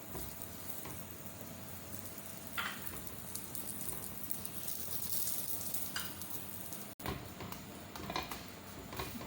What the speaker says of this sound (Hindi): और अब इसे हम फ्राई कर लेते हैं।